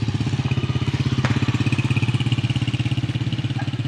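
A motorcycle engine runs at a steady, pulsing idle close by throughout, loud and even, with a faint voice in the background.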